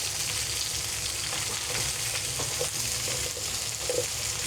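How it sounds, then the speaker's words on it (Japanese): Daikon radish sears in a hot pan until lightly browned, with a loud, continuous sizzle and light stirring or scraping and no talk. "ちょっと軽く焼き目つくぐらいにこう焼いてあげるイメージでやってあげると"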